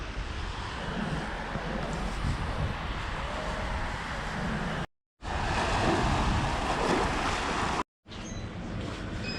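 Ocean surf on a beach in Gambia hisses and rumbles in a constant broadband wash, moderately loud, broken by two brief cuts to silence.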